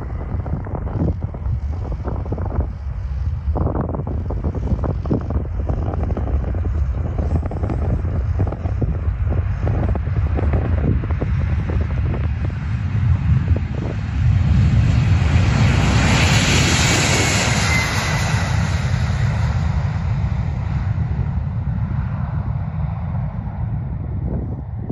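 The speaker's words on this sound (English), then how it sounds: "This Boeing 767 taking off from Antarctica, creating a cloud of snow behind it." A Boeing 767 takes off from a snowy Antarctic runway, its jet engines a loud continuous roar with heavy wind rumble that swells toward the middle of the run.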